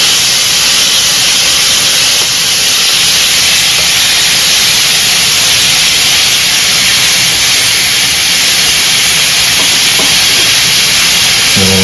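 Chicken cooks on high heat in a pan while being stirred, giving a loud, continuous sizzling hiss that holds steady throughout, with faint scraping underneath.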